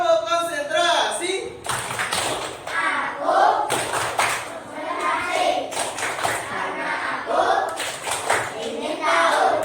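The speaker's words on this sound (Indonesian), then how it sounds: "Tepuk konsentrasi." A classroom of students performs a rhythmic concentration clap, bursts of hand claps in a patterned sequence mixed with children's chanting voices, loud and close.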